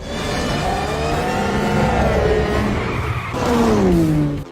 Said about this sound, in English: The car sped away like a cheetah on the road.